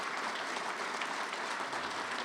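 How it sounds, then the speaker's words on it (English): Applause fills a banquet room at a Hall of Fame winter enshrinement dinner, a steady, continuous clapping from a seated audience with no voices over it. "if you would please give them all a nice round of applause."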